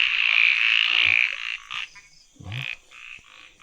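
Frogs croak in a forest after rain, a loud sustained trilling call that breaks into shorter bursts and pauses, close by with no talk.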